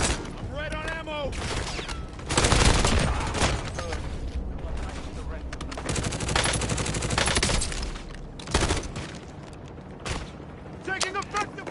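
Heavy gunfire in a Call of Duty: Warzone match, dense bursts of automatic fire and booms close and loud, with a player shouting over the shooting in stretches.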